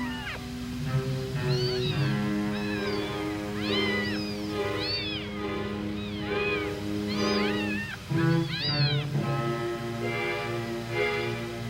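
Several kittens meow repeatedly in high, wavering cries that overlap and follow one another almost without pause, close and fairly loud, with no talking.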